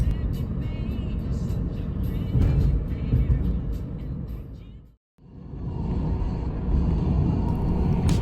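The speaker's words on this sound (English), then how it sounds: "Since it is just Golden Week, many cars are heading to Hirado." Cars crossing Hirado Ohashi Bridge during Golden Week traffic: a continuous, moderately loud road rumble with tire and engine noise, cutting out briefly midway before resuming as vehicles keep passing.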